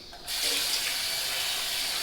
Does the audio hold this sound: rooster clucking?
no